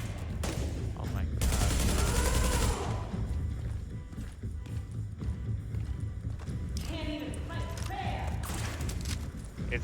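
Gunfire from the video game The Division, a dense burst of shots with a hostile turret firing, loud and close, followed by scattered shots and game effects with voices talking over it.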